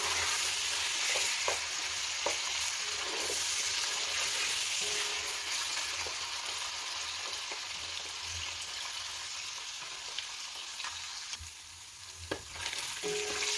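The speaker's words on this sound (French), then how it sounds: "On continue de remuer nos carottes." Carrots frying in a pan for beef bourguignon, with a continuous bright sizzle and scattered scrapes and taps as they are stirred, heard up close without talking.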